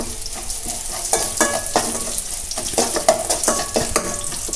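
Onions, curry leaves and a dried red chili frying in oil in a pan for coconut chutney, a steady loud sizzle broken by repeated scrapes and clinks of a spoon stirring, with no voices.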